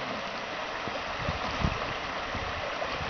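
Steady rushing and gurgling of Hillaby Creek flowing nearby, a continuous broadband wash of water with no voices.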